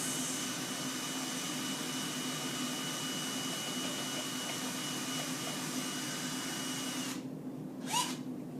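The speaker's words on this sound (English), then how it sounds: "this needs to be mixed up with the drill" A steady, continuous motorized whir of a power drill mixing pottery glaze for several seconds, then cutting out abruptly near the end with a brief clatter.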